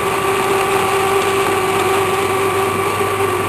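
A lathe boring bar trims metal from the inside of a part being fitted with thrust washers, giving a steady, loud machine hum with a constant tonal whine and no breaks throughout.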